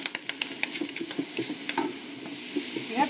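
Sliced onion fries in a pot for a creamy mushroom bacon soup while being stirred constantly. A close sizzle runs under quick scraping and clacking stir strokes, with a soft steamy hiss and no voices.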